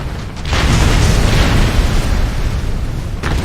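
An ICBM blows up in the video game Ace Combat Assault Horizon, a loud sustained rumbling explosion with heavy low boom that rolls on for about three seconds, alone without voices.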